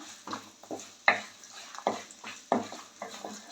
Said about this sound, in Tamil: இதில் கசகசாவும் சேர்த்துருக்கோம் எல்லாத்தையும் வந்து கொஞ்சம் நல்லா மிதமான தீயில் வந்து வறுத்துக்கலாம்